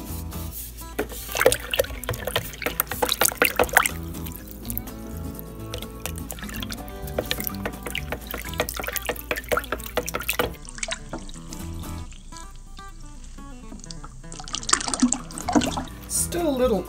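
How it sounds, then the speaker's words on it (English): Salt is stirred into water to dissolve it for a brine to ferment red onions, with liquid swishing and sharp clinks of a utensil against the container coming in uneven bursts up close. "Salt's in there, now I just need to stir to dissolve."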